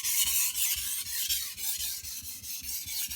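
A knife drawn across a sharpening stone, making repeated rasping strokes in an even rhythm, close and fairly quiet, with no talking.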